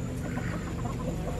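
Backyard chickens cluck softly and continuously beside freshly cut grass, a low busy murmur of several birds close by with no talk.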